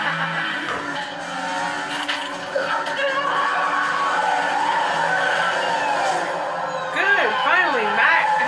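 Passing car traffic from a scene in The Vampire Diaries, with engine noise and tire skids rolling steadily under dramatic music and overlapping talk throughout.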